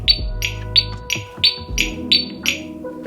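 Reminder alarm for a forgotten e-bike turn signal, beeping in a steady series of eight short, sharp tones about every third of a second, loud and close, with a faint hum underneath.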